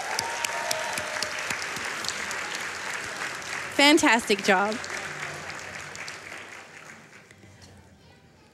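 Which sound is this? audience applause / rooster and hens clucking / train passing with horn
audience applause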